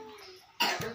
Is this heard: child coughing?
yes